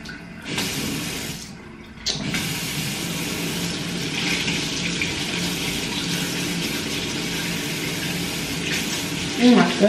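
Water runs steadily from a tap in a continuous rushing stream, close by, briefly dipping early before flowing on with a faint voice near the end.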